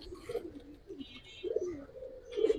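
Cobra silver pigeons cooing at a pigeon sale, soft repeated low coos in a few short phrases, fairly close, with faint background noise and a little distant chatter.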